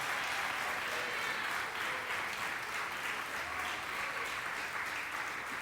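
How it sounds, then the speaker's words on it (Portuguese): Applause from a church congregation during a Portuguese-language sermon on the Lord's Supper, a steady dense wash of clapping that holds evenly throughout at moderate volume. "olha para cá e aplauda ao Senhor Jesus"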